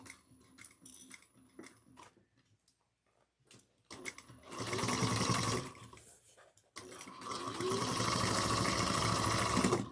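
Sewing machine back stitching a handbag, two bursts of steady close whirring stitching separated by a short pause, preceded by quiet clicks and fabric handling.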